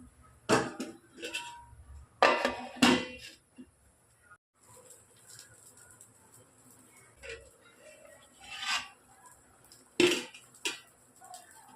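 A pot of cowpea curry in a home kitchen is covered with a lid, with a few sharp metallic clinks and clatters of metal cookware, spaced apart, and quieter rattles in between.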